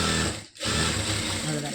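A sewing machine stitches a border on a sleeve, running with a fast steady close whir, briefly pausing near the middle before carrying on, while someone talks over it.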